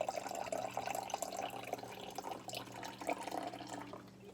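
Vinegar poured in a continuous liquid stream, a steady trickling and splashing close by for several seconds that eases off slightly at the end.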